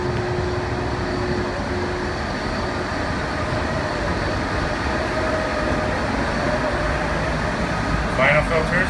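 Air handler number 7 runs as a steady, loud broadband roar and hum from start to end, with a faint tonal whine riding over the constant rush.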